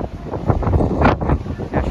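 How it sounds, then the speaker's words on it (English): Strong wind roars and buffets a microphone outdoors at a cruise port beside the Norwegian Bliss, a continuous loud rumbling gust with surging swells and no voices. "it's really windy out here today"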